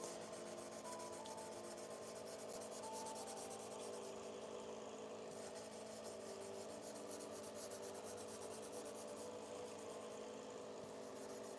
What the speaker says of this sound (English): it's a great machine for sharpening a lot of things